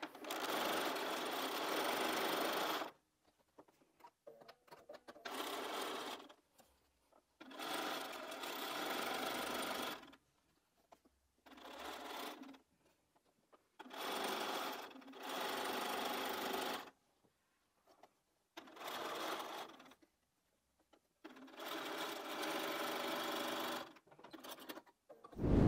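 A sewing machine chain-pieces quilt block patches in repeated bursts of rapid whirring stitching, each run a few seconds long and separated by quiet pauses, heard close and alone.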